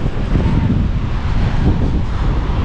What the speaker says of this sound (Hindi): हवा काफ़ी ज़्यादा तेज़ चल रही